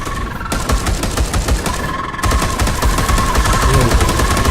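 Rapid sustained automatic fire from a Terminator's assault cannon in Space Hulk Deathwing, a loud continuous hammering stream of shots with a steady mechanical drone underneath, briefly pausing before resuming and running to the end.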